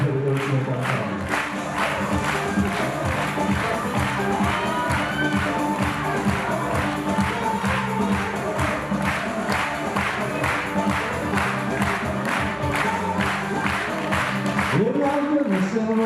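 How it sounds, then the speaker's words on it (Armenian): An audience applauds dancers at a dance studio event, with steady, dense clapping that continues evenly for the whole stretch, with crowd noise and a voice speaking over it. "Այս ծափահարությունները ձերն են, աղջիկներ"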